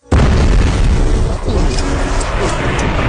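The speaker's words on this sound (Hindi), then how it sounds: "आइए इसे एक विस्फोट के साथ" A massive explosion set off at a train erupts suddenly, then becomes a sustained, loud roaring rumble. Crackling debris and fire continue under it for several seconds. No speech is heard.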